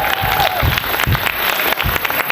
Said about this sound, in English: So please, a round of applause for Musba.